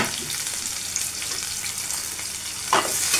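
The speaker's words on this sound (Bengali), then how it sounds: "তেলে ভালো করে ভেজে নেব লাল করে" Two large onions fry in hot oil to make birista for chicken korma, a dense close sizzle with stirring scrapes and a brief louder burst near the end, with no voices.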